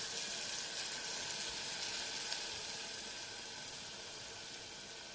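Cumin seeds hit hot oil while paneer curry is cooked in a village kitchen, producing a soft, continuous hiss and crackle that slowly eases off, with no talking.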